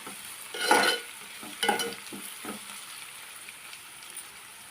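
Onions and eggplant frying in a pan for a spicy coriander curry, a soft steady sizzle broken by a few close scraping stirs that fade toward the end.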